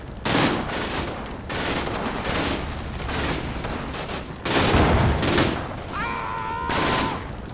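Gunfire in a World War II firefight in Combat Mission Final Blitzkrieg, with dense rattling bursts of rifle and machine-gun fire and heavier booms, continuous and fairly loud, and a brief tonal whine near the end.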